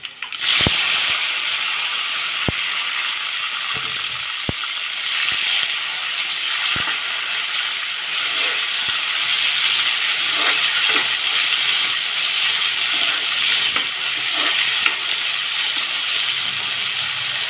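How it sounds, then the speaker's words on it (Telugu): Chopped tomatoes go into onions frying in oil for a stuffed eggplant curry, producing a loud, continuous hissing sizzle with sharp pops and crackles scattered through the first half. "ఆనియన్స్ వేగిన తర్వాత టమాటాలు వేయాలి కట్ చేసి పెట్టుకున్న టమాటా ముక్కలు వేయాలి"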